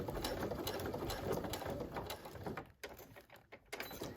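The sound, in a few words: sewing machine stitching a clear stadium bag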